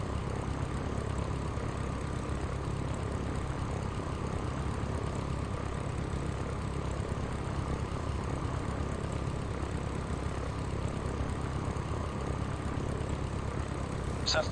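Steady, continuous drone of a Cessna's propeller engine in flight, from the Sierra Pro Pilot flight simulator game, holding a constant loud hum throughout with no clear changes in pitch.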